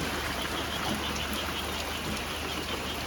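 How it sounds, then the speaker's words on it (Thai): Steady rain falls on a roof during construction work, a dense, even hiss of drops running unbroken throughout with no talk. "ฝนตกด้วยนะ"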